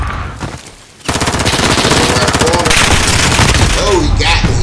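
Rapid automatic P90 fire in a first-person shooter, a dense, sustained burst of shots running almost unbroken after a brief lull near the start, loud and close with some game sounds underneath.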